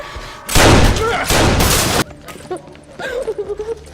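Two loud bursts of rapid gunfire crack in quick succession, followed by quieter shouting voices and scuffling.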